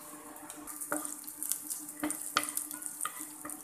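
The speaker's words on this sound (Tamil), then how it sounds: "1 துண்டு இஞ்சி பொடியாக நறுக்கினதையும் சேர்த்து நல்லா வதக்கிக்கோங்க." Chopped garlic and ginger frying in oil in a pan, a soft steady sizzle broken by scattered clicks and scrapes from stirring, faint and close with no talk.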